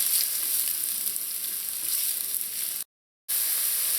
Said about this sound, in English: once the oil heats up, add in the onions. Gonna let this saute in here until it starts to get tender.